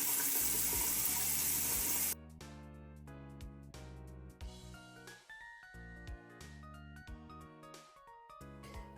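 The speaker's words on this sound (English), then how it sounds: "Then now I'm just gonna clean my hands and then get a warm washcloth to wipe the makeup off." Hands washed under a running bathroom tap, a loud steady gush of water for the first two seconds before it cuts off, followed by soft tinkling music.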